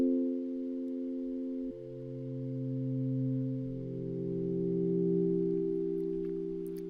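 A sustained synthesizer tone holds with layered harmonics, shifting pitch once and then slowly swelling and fading in a long, smooth tail.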